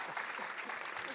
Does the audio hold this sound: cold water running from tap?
no